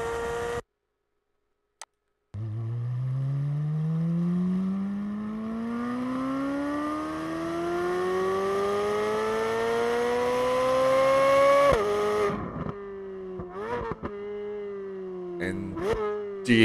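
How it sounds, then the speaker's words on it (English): A 2023 Chevrolet Corvette Z06 V8 revs hard, its race-car pitch climbing steadily through a long pull before a sharp shift and a few quick blips, loud and close. "that does not sound like a regular V8 that we heard from Chevy before"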